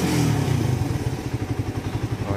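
A secondhand Suzuki Raider 150 motorcycle engine rises from a brief rev and then settles into a steady, even, pulsing idle after carburetor tuning, close and fairly loud with no voices.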